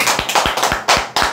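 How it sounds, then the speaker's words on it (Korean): A few hands clapping at a talk, sharp distinct claps spaced roughly every fifth of a second, close and loud, about seven strikes with no voices. "박수 한번."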